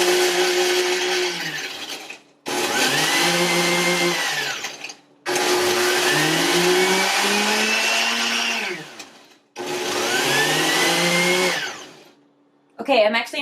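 A kitchen blender chops mint leaves for lemonade in three loud bursts of several seconds each, its motor whine rising and settling, with short gaps of quiet between the runs.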